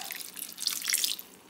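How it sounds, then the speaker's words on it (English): A full cup of water going into a crock pot with rice, with a brief, close splashing pour and dripping that fades out after about a second. "I'm going to add all the water in."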